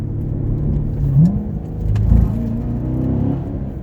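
A C7 Corvette Grand Sport engine hums loudly and steadily, its pitch climbing through a gear as it pulls hard, with no voices.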